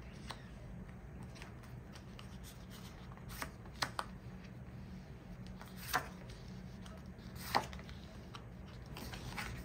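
Tarot cards shuffled and drawn by hand, giving soft, quiet papery riffles and a few crisp slaps and snaps at irregular moments over a low steady room hum, with no voices.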